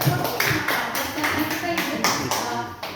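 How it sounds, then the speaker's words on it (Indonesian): A small group clapping in a school room, a loose run of uneven claps in bursts, close and fairly loud, with talking mixed in. "mana tepuk tangannya Ibu, silakan"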